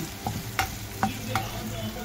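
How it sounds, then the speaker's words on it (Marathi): Carrot frying in oil in a pan, a soft steady sizzle broken by a few sharp clicks of a spoon stirring against the pan, close and without talk. "गाजर थोडा फ्राय झालाय"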